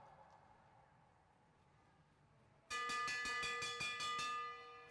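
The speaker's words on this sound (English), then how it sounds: "Here comes the bell." A final-lap bell at a race is struck rapidly and repeatedly, a bright metallic clanging that bursts in suddenly, loud and close, and keeps ringing for a couple of seconds after quieter crowd ambience.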